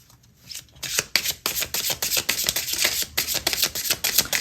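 A tarot deck is shuffled close up in a quick, rhythmic riffle of paper cards, with repeated bursts of flicking and sliding and a short pause near the start.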